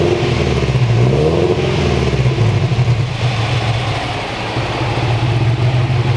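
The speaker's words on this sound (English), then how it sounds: "it's got an unequal length header on it. So it's got a very WRX sound, like very choppy" Scion FR-S with a turbo kit and unequal length header revving close by, a loud, choppy, rumbling exhaust that rises and falls through a short blip.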